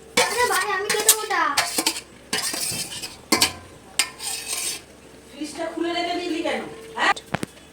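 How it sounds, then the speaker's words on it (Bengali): A fried egg being stirred into curry in a pan, with clinking metal utensil scrapes and pot knocks in bursts, mixed with a faint sizzle and people talking over it. "এবার ডিমটা দিয়ে ভালোভাবে নাড়িয়ে নেবো।"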